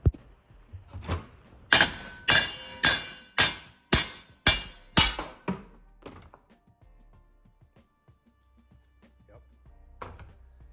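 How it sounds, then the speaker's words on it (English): About nine sharp, ringing hammer blows on a truck's 4L80E transmission flex plate in a steady rhythm, each leaving a bright bell-like metallic ring, then quiet with one last faint strike. "Sounds like hitting a bell with a hammer."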